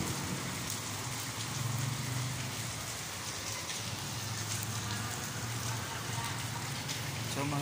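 Heavy rain pours down in a dense, constant hiss, steady and close throughout without a break.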